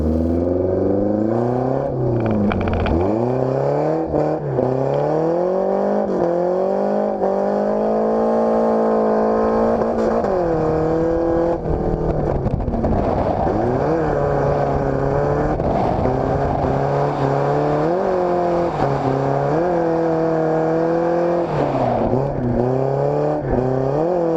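A drift car spins donuts on a track, its engine holding a loud, sustained rev that rises and falls in waves as the throttle works, tire noise roaring underneath throughout.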